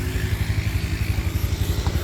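A motorcycle engine idling or riding in the rain, a loud, close rhythmic low putter pulsing steadily with light clatter over the top.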